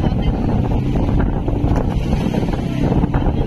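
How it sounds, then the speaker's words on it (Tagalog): Rough sea wind roars steadily across a small outrigger boat tossed by big waves, with dense low rumbling water and buffeting gusts on the microphone throughout, no voices. "Grabe ng alon no. Sayaw-sayaw ang bangka"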